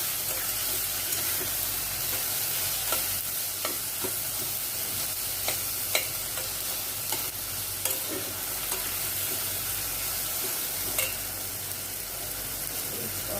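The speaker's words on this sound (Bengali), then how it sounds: "এর মধ্যে একটু আগে লাল লঙ্কাটা দিয়ে ভেজে নিচ্ছি।" Red chillies fry in hot oil in a pan, giving a steady, close sizzle and hiss with occasional sharp crackles and pops scattered through the frying.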